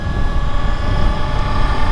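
Victory Empulse TT electric motorcycle under way, a steady jet-like whine with faint tonal lines over constant low rumble and wind, loud and continuous throughout.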